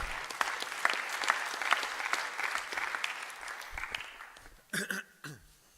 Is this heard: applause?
yes